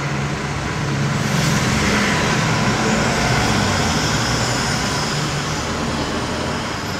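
Heavy road traffic heard from inside a moving car: a loud, steady broadband rumble and road roar with passing vehicles blending into a continuous wash, no speech.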